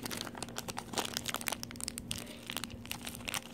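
Plastic packaging around a Yoshi plush is torn open by hand, with rapid crinkling, crunching and tearing bursts close up and no talk.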